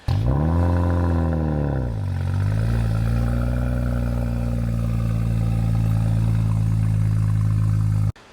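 BMW Alpina B3 Biturbo with an Akrapovic exhaust running close by: a loud, deep engine note that swells and dips in pitch early on, then holds a steady throaty idle before cutting off abruptly.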